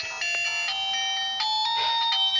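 A phone ringtone keeps sounding unanswered, a steady electronic tone pulsing in short repeated bursts, fairly close and clear with no voices over it.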